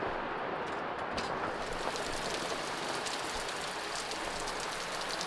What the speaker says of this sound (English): it went from raining to hailing on our yurt ceiling, which is basically just a tarp